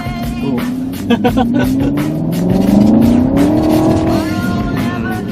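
A race car engine revs up and climbs in pitch, loud and close, with tire noise and a brief squeal, under someone talking in Thai.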